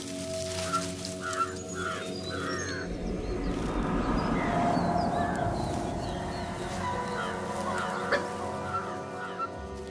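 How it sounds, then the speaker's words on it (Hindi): In a forest in Kabini, India, wild birds and animals give repeated raucous alarm calls over a dense, steady background of jungle insects and birdsong, with the louder calls breaking out in short bursts at moderate distance. "ये अलार्म कॉल्स मुझे लेकर नहीं दी जा रही।"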